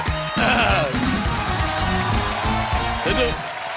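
Studio audience applause and cheering for guests on The Kapil Sharma Show. A loud, dense wash of clapping from a large crowd holds steady throughout, with band music and voices mixed in.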